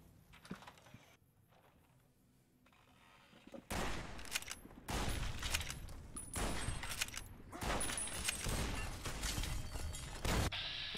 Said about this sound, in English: Who's shooting all their guys?